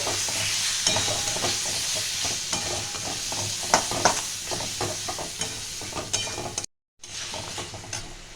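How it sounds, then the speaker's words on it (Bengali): Spice paste with Kashmiri chili, green chilies, ginger and garlic stirred in a hot pan for khichuri, with steady close sizzling and repeated scraping spoon strokes; it cuts out briefly near the end. "এবার মশলাটাকে আমি ভালো করে কষাবো"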